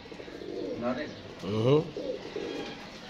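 Pigeons coo softly nearby, with a few low, throaty rolling calls rising and fading over a quiet background.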